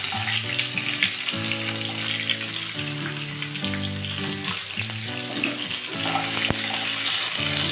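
Onion, ginger and tomato frying in oil over cumin seeds for a dum paneer recipe, steady close sizzling with stirring scrapes and a sustained musical tone running underneath.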